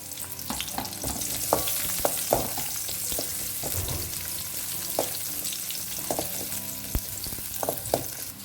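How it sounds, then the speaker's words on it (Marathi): Onions frying in hot oil in a pan, a steady bright sizzle with scattered spoon scrapes and small taps, close and continuous, with no talking. "प्याज को ना बढ़िया सा ब्राउन कलर आने तक इसे हमें फ्राई करना है"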